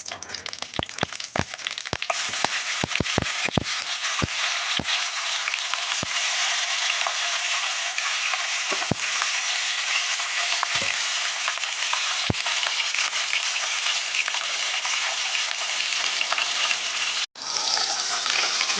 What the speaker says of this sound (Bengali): কড়াই গরম হয়ে গেছে এবং সরষের তেল দিয়ে কাতলা মাছটা আমি ভেজে দেবো।